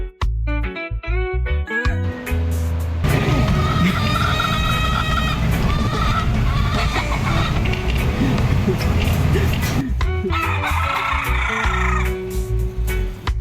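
Roosters crowing in Key West, their calls mixed into a dense bed of music that runs through the whole stretch.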